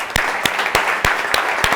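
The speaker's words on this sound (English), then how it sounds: "So give a round of applause to yourselves" Applause at a football club's awards presentation, a close, loud burst of clapping with sharp, evenly spaced individual claps standing out over the general patter.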